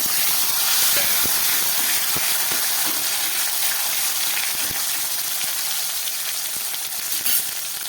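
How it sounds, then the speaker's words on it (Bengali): Tomato dropped into hot tempering oil in a pan for rajma gives a loud, close, continuous sizzle with bursts of hissing and spattering. "ফোড়নটা খুব ভালো করে ভাজা হয়ে গেল। এরপরে আমি একটা টমেটো দিয়ে দিচ্ছি।"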